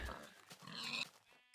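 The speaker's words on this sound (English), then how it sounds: "Over here we have a pig." A single short, rough pig grunt from a Minecraft-style video game, fairly close and clear, ending with a faint bright chime.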